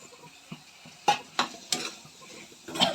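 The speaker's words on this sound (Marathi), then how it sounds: "यामध्ये आपण आता हा फणस टाकणार आहोत" Jackfruit pieces stirred into an oily masala in a pan, a handful of separate spoon scrapes and clanks over a faint sizzle, close and unhurried, no speech.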